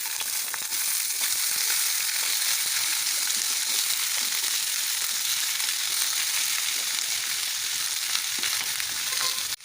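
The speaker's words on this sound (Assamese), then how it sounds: "এতিয়া মই এইখিনি পিঁয়াজ আৰু এইখিনি যিমানখিনি বস্তু যোগাৰ কৰি লৈছিলোঁ এইখিনি ভাজি ল'ম" Onions and other gathered ingredients fry in a pan, a loud, continuous, even sizzle that barely changes from start to end, with no talking.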